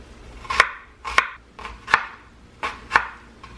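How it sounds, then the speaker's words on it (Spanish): An onion being chopped with a knife on a board, six crisp evenly spaced cuts about half a second apart, close and clear with no talk. "Voy a picar la cebolla"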